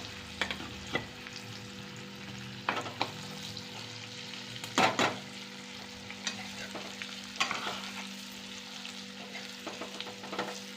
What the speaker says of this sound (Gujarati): ભરેલ ભીંડાનું શાક વઘાર થઈ ગયો છે મસ્ત મજાનો હવે આને ધીમે ગેસે ચડવા દેવાનું